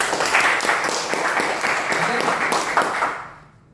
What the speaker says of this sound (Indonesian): Tepuk tangan untuk Bapak Ibu semua ya.